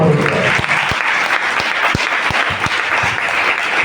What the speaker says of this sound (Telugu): చప్పట్లు కొట్టి దేవుని మహిమ